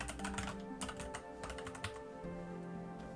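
Rapid, steady clatter of keys on a computer keyboard while Roblox script code is typed, close and continuous for the whole stretch with no voices.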